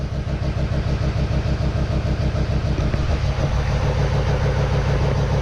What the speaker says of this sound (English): We have a running diesel, a running diesel, a running diesel!